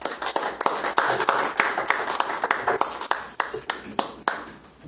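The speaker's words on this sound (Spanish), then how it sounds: "Un aplauso, por favor, para él." A small audience claps for a traditional cook being introduced at a community event, sparse individual hand claps with clear separate strikes, fading out toward the end.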